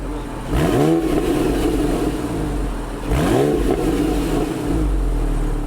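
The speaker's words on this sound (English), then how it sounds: "this makes the exhaust tone deeper and louder" A modified Porsche 911 with bypassed mufflers revs hard twice with a deep, loud exhaust note, rising and falling pitch each time over a steady idle rumble.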